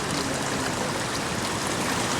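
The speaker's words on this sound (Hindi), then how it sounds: "ये हो रही है जद्दा में बारिश।" Heavy rain and running water in a flooded Jeddah street, a steady broadband rushing wash that stays loud and even throughout with no voices.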